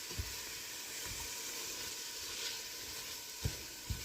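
Onion sautéing in a pan over slightly above medium heat, a steady soft sizzle with a few brief low knocks of stirring near the end.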